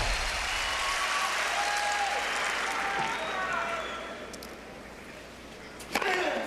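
A tennis crowd at the 2004 US Open quarterfinal applauds Andre Agassi against Roger Federer, a dense burst of clapping that gradually fades, ending with a sharp knock.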